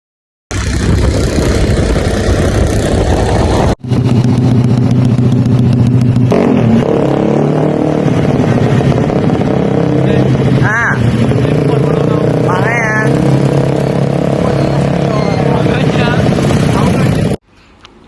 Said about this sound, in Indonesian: Suara knalpot motor